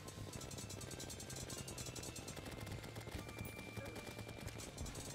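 Mega Shark gun firing in the video game Terraria during a Frost Moon event, a continuous rapid stream of fast repeating shots, dense and steady, with no talk over it.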